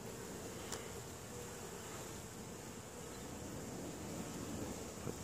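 Carniolan honey bees hum continuously around an open hive full of brood during an inspection, a faint, even buzzing with a few individual bees passing close, no voices.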